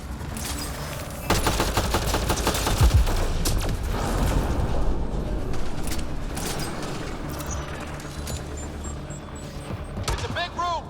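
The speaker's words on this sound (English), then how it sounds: "It's a gunfight in the gun battery then." Sustained gunfire fills a gunfight inside a gun battery in Mass Effect Andromeda. Rapid automatic bursts and repeated shots rattle nonstop after a quieter opening, loud and close, with a few clinks near the end.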